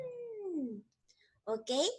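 A person imitates an elephant's trumpeting with the voice, first a long falling wail, then after a pause a short rising blast ending in a bright, strained trumpet, close and loud.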